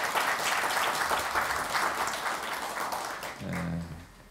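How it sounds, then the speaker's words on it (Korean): A crowd at a social workers' association election debate gives warm applause for two candidates, dense clapping that fades near the end as a low tone and murmur take over. "다시 한번 수고해 주신 두 후보님께 뜨거운 박수 부탁드리겠습니다"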